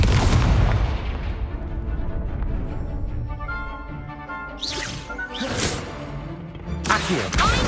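The Confringo fire spell in the Hogwarts Legacy video game goes off as a loud booming blast at the start, which fades into a rumble. Sharper whooshing bursts and crashes follow later, with no talk.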